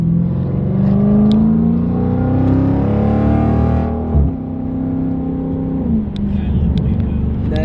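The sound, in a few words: Dodge Challenger Scat Pack exhaust revving, mid muffler and resonator delete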